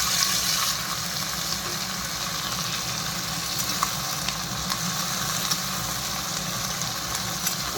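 Tomato and capsicum fry in hot oil for Chinese-style noodles, making a steady, close, even sizzling hiss that continues without a break for the whole stretch.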